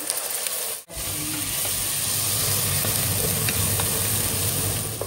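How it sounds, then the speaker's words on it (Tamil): Onions sauté in a pressure cooker pot, making a continuous loud hiss and sizzle with faint stirring ticks. It breaks off briefly near the start and then carries on steadily. "வெங்காயம் வதங்கட்டும்."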